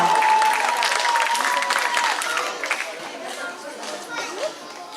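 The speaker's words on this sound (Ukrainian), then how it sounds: "Оплесками вітаємо" Children clapping at a summer camp to welcome a squad's song performance, dense applause starting loud and tapering off, with shouts and children's voices mixed in.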